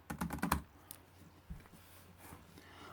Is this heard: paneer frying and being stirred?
no